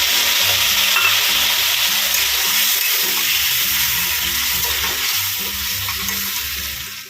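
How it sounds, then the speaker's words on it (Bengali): Potatoes fry with salt and turmeric in oil, a loud close sizzle with rhythmic stirring scrapes of a spatula against the pan, tapering slightly at the end. "নুন হলুদ দিয়ে একটু ভেজে নেবো আলুটা"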